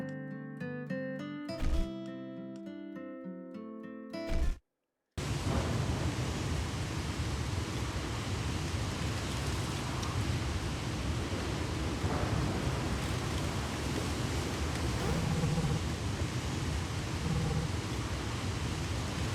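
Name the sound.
storm with thunder and rain at sea in Horizon's Gate video game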